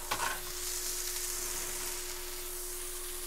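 Cabbage for lumpiang gulay hits a hot pan and is stir-fried. A brief clatter opens into a loud, steady, close-up sizzle that continues without any talking.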